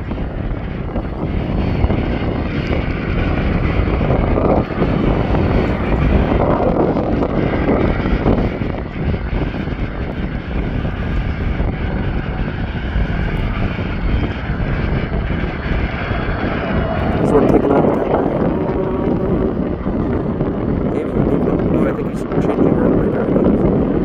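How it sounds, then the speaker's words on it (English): A firefighting plane flies overhead, its steady engine drone loud and continuous with wind buffeting the microphone and a swell near the end as it passes closest. "There's the plane."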